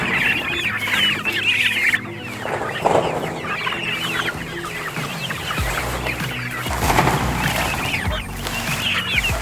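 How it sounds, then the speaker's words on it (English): Chickens and turkeys being moved on a homestead cluck continuously in an overlapping busy chorus, close up, with handling bumps and rustling from the enclosure. "Moving turkeys and some other chickens."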